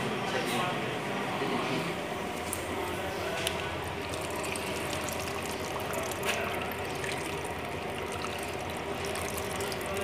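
Water poured onto the soil of a potted money plant makes a steady, close, continuous splashing rush that runs the whole time without pause.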